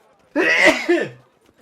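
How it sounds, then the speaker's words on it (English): A single loud human sneeze, a sharp explosive burst with a short trailing exhale, sounding close and alone, heard during a commentated Witcher 3 gameplay session. "I just sneezed."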